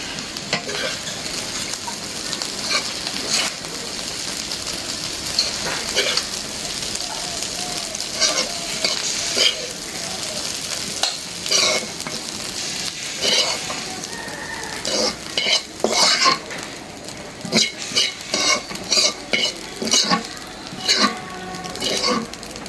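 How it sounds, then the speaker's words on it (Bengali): Fish roe fries with potato in a hot pan, a loud continuous sizzle broken by repeated scraping stirs of a spatula that grow more frequent and pronounced toward the end. There is no speech. "মাছের ডিম ভাজা"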